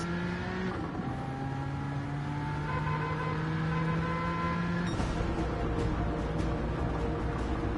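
Race car engine in a video game race, a steady droning whine with rising and falling pitch as it accelerates and shifts, continuous and fairly loud with no talk.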